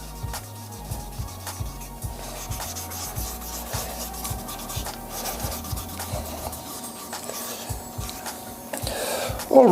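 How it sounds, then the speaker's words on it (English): Continuous rubbing and rasping of sandpaper against a shaving brush handle spinning on a lathe, with a rhythmic low mechanical thumping underneath and a brief louder scrape at the end. "Takes a while doing all the sanding"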